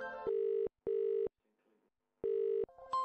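A mobile phone rings with a steady electronic tone in repeated bursts separated by short gaps, fairly loud and close, with no talk over it.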